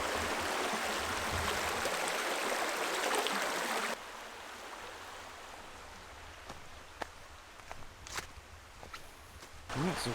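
A river flows near a backpacking campsite in Ohio's Shawnee area, giving a loud, dense rush of water that drops sharply to a quieter, more distant wash, with scattered clicks and rustles over it.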